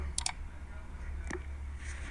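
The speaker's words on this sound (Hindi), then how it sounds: "यहाँ पे देखो माउस क्लिक हो गया।" A mouse-click sound effect plays in a video editor as a few quiet, crisp clicks, a quick double click near the start and another about a second later, over a steady low hum.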